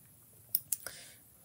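Faint computer mouse clicks during 3D modelling work, two quick close clicks followed by a softer third, with otherwise quiet background.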